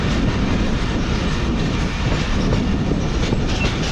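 Lasani Express passenger train running on rails between Lahore and Faisalabad, a steady loud rumble of wheels and carriages with clickety-clack rhythm throughout, no speech.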